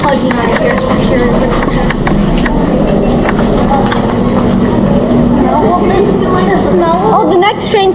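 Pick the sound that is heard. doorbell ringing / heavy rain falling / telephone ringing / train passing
train passing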